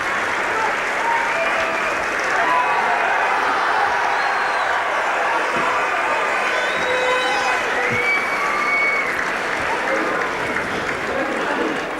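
A massive crowd at a Tullamore football final in 2002 claps and cheers continuously in a dense, sustained wash of applause, with a commentator speaking over it.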